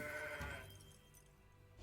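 The Moon Goat card is played in the Legends of Runeterra video game, triggering a short synthetic goat bleat that wavers briefly and then fades into a quiet game backdrop.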